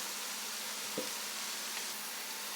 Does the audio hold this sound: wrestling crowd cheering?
no